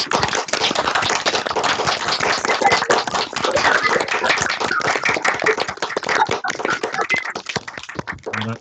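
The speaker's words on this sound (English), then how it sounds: "give Emer a round of applause in the traditional form" Participants in an online Irish Studies seminar clap together after unmuting. The clapping is dense, scattered and continuous for about eight seconds, with many overlapping hands at fairly steady loudness.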